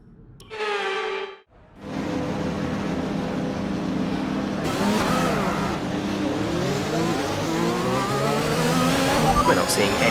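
An F1 car revving at the race start in the F1 2021 video game: a high engine whine, a short silence, then a sustained loud roar that rises and shifts in pitch as other cars join in, under a speaking voice.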